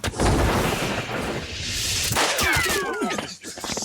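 A loud burst of gunshots and impacts from the video game Judgment opens the moment, followed by a shorter crack and lingering noise as a character's voice briefly cuts in.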